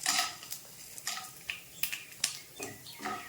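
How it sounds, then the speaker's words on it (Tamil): Chana dal and urad dal frying in hot oil for tamarind rice, with spoon scrapes and stirring clinks over a soft crackle, several sharp metallic knocks spaced through the moment. "கடலைப்பருப்பு, உளுந்தம்பருப்பு, அதுவும் பொரியுது"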